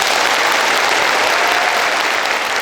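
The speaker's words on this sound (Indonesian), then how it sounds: "Tepuk tangan untuk kita semuanya." Audience applause at a motivational seminar at Darussalam Gontor, Indonesia: steady, dense clapping from a large crowd, loud and continuous throughout without any talking.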